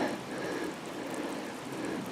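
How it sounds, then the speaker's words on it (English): Steady hiss of hot spring water bubbling up at Valley View Hot Springs, a continuous close wash of fizzing, gurgling water with no talk. "You can see the water bubbling."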